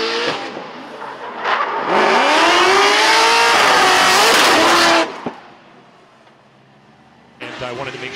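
Formula D drift cars racing tandem, engines revving hard and tires screeching loudly, then a collision before the noise drops off and another car roars back in, with a commentator speaking over it.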